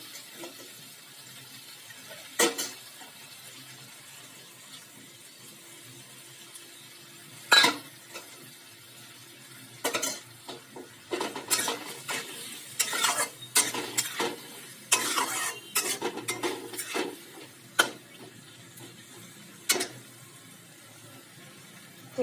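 Ginger, cumin, chili and turmeric frying in a pan, a soft low sizzle under sharp, scattered scrapes and clinks of a spoon against metal, busiest in the middle stretch, close by and without talk.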